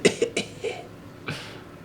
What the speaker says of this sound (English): So, like little kid coughing.